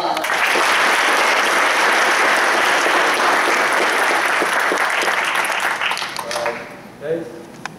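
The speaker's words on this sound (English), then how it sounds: "let's give these well-deserving graduates a round of applause" Loud, sustained applause from a large crowd at a military graduation ceremony, steady for several seconds before tapering off near the end.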